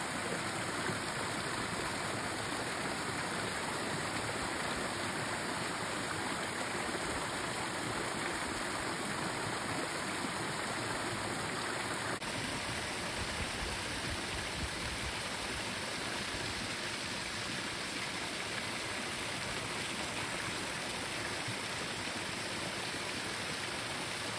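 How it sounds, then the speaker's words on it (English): A steady, loud wash of falling water from a waterfall near a Hanuman temple at Mount Madonna, a continuous broadband rush that fills the whole stretch without pause. "We also got blessed by seeing this beautiful waterfall around Lord Shiv."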